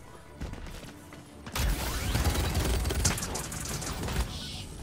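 Gunfire in the video game Paladins, a quieter mechanical clatter first, then a dense, loud burst of rapid shots that fills the rest of the clip and tapers slightly toward the end.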